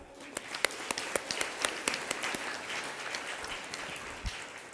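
A small audience gives panel discussion participants a thin round of clapping, with scattered individual claps rising and fading over a few seconds at modest volume.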